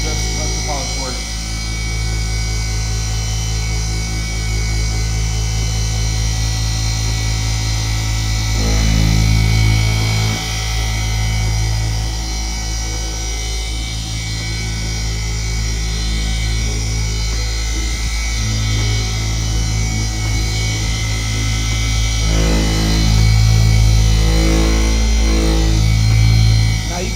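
A car polisher running steadily at speed 4 with Naso 305 compound on a 21 mm throw pad during a one-step paint correction, a continuous motor whir with a low hum and slight swells, under talk throughout.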